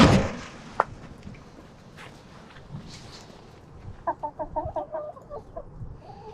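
Chickens in an outdoor run give a quick string of clucks near the end, preceded by faint scattered calls and soft background noise.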